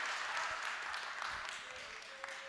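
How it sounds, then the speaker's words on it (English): An audience claps together at an Open Source Initiative birthday celebration. The applause is a faint, steady patter with no voices over it. "just clap it out"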